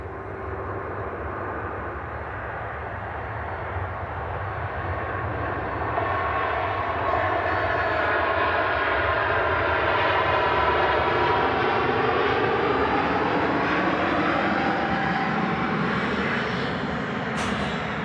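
An airplane departs with a loud, continuous engine roar that swells and holds at full power for many seconds, heard alone and up close.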